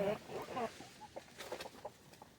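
Backyard laying hens clucking softly nearby, with a run of short, irregular low clucks that fade into scattered single calls.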